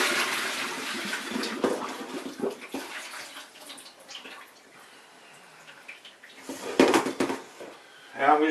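Boiled red potatoes are drained, with water gushing and splashing loudly at the start, then thinning to trickles before a few clatters and another pour near the end.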